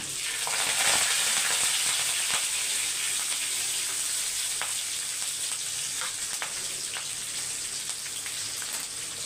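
Garlic cloves and curry leaves frying in hot oil after fenugreek seeds, a loud, hissing, crackling sizzle that starts strong and stays steady and close, with no talking.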